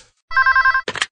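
A telephone bell trills in one steady, loud ringing burst of about half a second, cut off by a short noisy clatter, with no voices.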